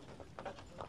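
Shod Quarter Horse–Morgan cross geldings walking as a team, their hooves clip-clopping in a few close, uneven steps with a faint voice nearby.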